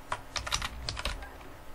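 A name is tapped out on a phone's on-screen keyboard in quick irregular bursts of soft clicks, fairly faint, close and without speech.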